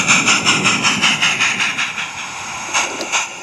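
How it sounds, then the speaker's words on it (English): A light railway locomotive runs toward the goods siding on the Peckforton Light Railway, giving off a close, loud chuffing engine noise with rhythmic pulses that ease slightly toward the end. "Abandoning its train, the Loco proceeds to the goods siding,"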